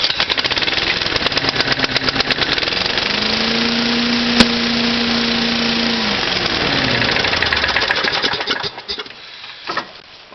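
A Cyclone Rake leaf vacuum's small engine is cranked and fires up, running at a steady loud idle with a rising and falling tone for several seconds before sputtering and cutting out near the end.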